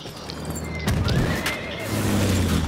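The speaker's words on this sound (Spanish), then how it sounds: "Tengo que escapar en este caballo." In Battlefield 1, a horse whinnies loudly over the clatter of its hooves while galloping, with battle ambience behind and no voices.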